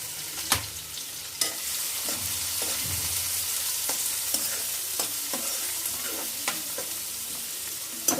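Chopped onions with cumin sizzling steadily in a pan, with intermittent scrapes and clinks of a spoon stirring them, close and fairly quiet, no voices.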